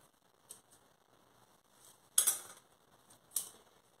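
A small toy tool cuts through modeling clay in a children's play setup, making a few sharp plastic clicks and taps spaced over a few seconds, close but faint, against a quiet background.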